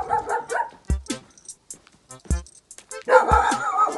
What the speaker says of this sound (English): Can't tell if that was the dog or if it was Jamie